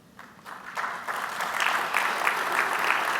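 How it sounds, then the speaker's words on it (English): Audience applause following a conference tech talk, starting thin and scattered then swelling into fuller, steady clapping from the crowd, with no talking over it. "Give them a nice big round of applause"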